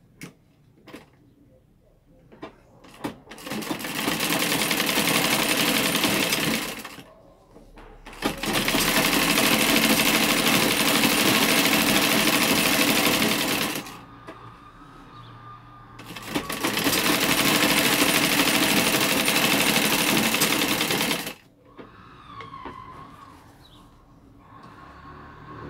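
A sewing machine stitching cotton tricoline fabric for a small table mat runs in three loud, rapid bursts of several seconds each, separated by short pauses with faint voice and handling noises.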